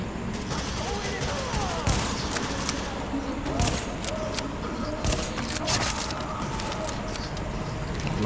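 In Tom Clancy's The Division, bursts of gunfire crack out repeatedly as sharp shots and quick volleys over the game's background noise, while a player talks over the action.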